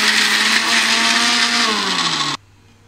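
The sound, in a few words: mixer grinder grinding masala paste without water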